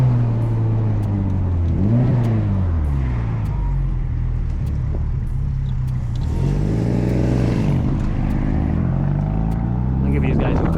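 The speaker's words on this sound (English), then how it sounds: "I feel like I'm driving in a rally right now, except it's tarmac, not gravel." A big-turbo Mitsubishi Evo X driven fast on tarmac, its engine droning steadily from inside the cabin and rising and falling in pitch through gear changes and revs, with a whooshing surge near the middle; someone talks over it.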